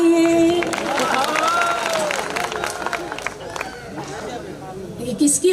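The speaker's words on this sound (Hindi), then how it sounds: "तालियां बजाइए।" Audience at a Hindi comic poetry recital (hasya kavi sammelan) bursts into applause and cheering, a dense wash of clapping with crowd murmur and voices throughout, fading slightly toward the end.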